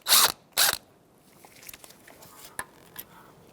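A ratchet with a 10mm socket works a rear ABS wheel speed sensor bolt free from the knuckle of a 2013-2018 Toyota RAV4, with two sharp bursts of clicking followed by faint scattered ticks and taps nearby.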